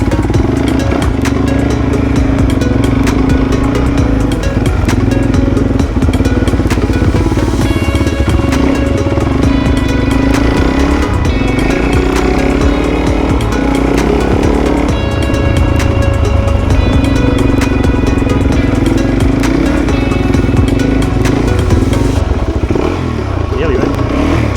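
A Suzuki DRZ400 dual-sport motorcycle rides along a beach, its single-cylinder engine buzzing and revving steadily and loudly throughout, with clatter and a voice speaking over it.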